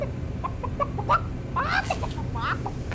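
A costumed character billed as the majestic space chicken makes a series of short, scattered clucks at moderate volume, ending in a few squawking, rising calls; the clucking may be a voice imitating a chicken.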